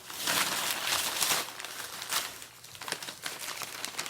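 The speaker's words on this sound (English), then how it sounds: "Alright, let's go ahead and remove the paper." Masking paper being peeled and crinkled off a freshly painted Jeep hood hinge, a close run of dry tearing and rustling crackles with no talking.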